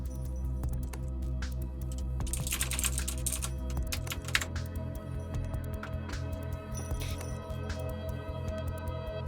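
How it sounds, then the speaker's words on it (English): Clicky mechanical computer keyboard typing, with a dense run of crisp key clicks that continues close up throughout, over a steady low hum and a faint background tone. "I have a clicky keyboard now?"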